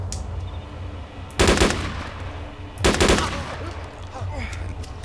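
Video game DayZ gunfire while shooting zombies, two short loud bursts of rapid shots about a second and a half apart over a low background hum.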